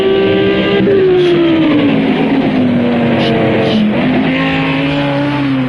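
A Lamborghini GT3 race car at Imola in Project Cars 2, its engine note loud and continuous. The pitch falls and wavers as the car spins, with a brief rise in the middle and no voices.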